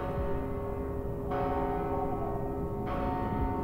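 Bell ringing in the Mortal Shell video game: a sustained, resonant metallic toll that swells again partway through, loud and steady with no talk over it.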